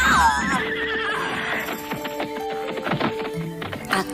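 A big white horse lets out a loud, close whinny that trails off, followed by hoof clops and scattered clattering sounds.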